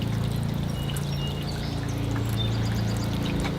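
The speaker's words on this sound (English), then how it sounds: "So it's starting to come out the drainage holes now. So that's it for the first can of water." A watering can pours water steadily into a 3D printed bonsai pot, a continuous close splashing trickle with no talk.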